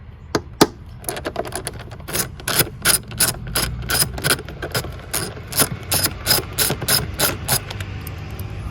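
An 8mm ratchet wrench loosens screws on the engine air box of an Acura ZDX, giving a rapid run of sharp, close ratcheting clicks in quick rhythmic bursts, loud and alone.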